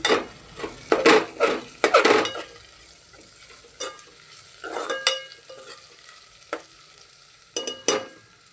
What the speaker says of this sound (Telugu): ఇప్పుడు కచ్చాబచ్చాగా దంచిపెట్టుకున్న ఎల్లుల్లి రెబ్బలు వేసుకోవాలండి